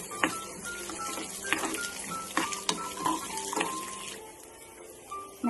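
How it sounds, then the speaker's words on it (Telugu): Peanuts frying in a pan for rava pulihora: a soft sizzle broken by irregular clinks and scrapes of stirring, close by and moderately loud, with no one talking. "ఫ్రై చేసేద్దాం."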